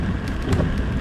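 Steady rain hisses across the whole stretch during a road trip through Maguindanao in the Philippines, a dense, even wash of drops with no voices.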